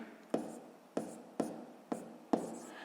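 Numbers are handwritten during a sixth-grade math fraction exercise, five distinct close pen or chalk strokes at a slow, even rhythm, with no voice.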